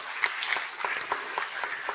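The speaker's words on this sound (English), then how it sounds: "Could we give them a big round of applause?" A crowd at a trade summit claps steadily, a dense patter of many hands at moderate distance, continuous from start to finish.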